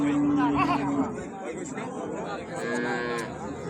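A dairy cow moos loudly and close by, a long low call, over a busy background of crowd chatter and livestock noise at a cattle market.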